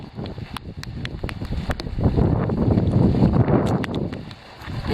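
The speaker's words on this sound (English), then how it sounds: "And it's pretty windy" Strong stormy wind blows outdoors near the water during a scuba diving session, a steady rushing roar buffeting the microphone, rising and thickening from the second second onward, with faint scattered knocks beneath it.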